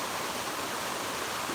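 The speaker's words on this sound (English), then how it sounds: "That concrete where the water's splashing and coming in" Water leaks and splashes steadily through a canal lock gate on the Erie Canal, a constant rushing hiss close by with no pauses.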